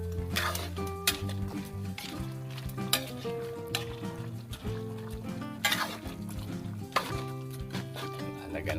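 Native chicken adobo is stirred in a pot in a simple rural kitchen, with a utensil scraping and clinking against the metal in irregular strokes over a continuous low sizzle, close by.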